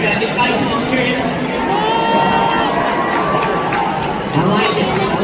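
A large rodeo crowd at the Calgary Stampede cheers and shouts in a continuous loud roar, with an announcer's voice carrying over the noise.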